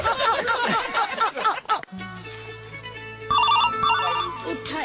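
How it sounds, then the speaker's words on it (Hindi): Laughter and chatter fill the first two seconds, then a phone ringtone takes over, playing a repeating electronic melody of bright tones at close range that keeps going to the end. "अरे प्रिया फोन"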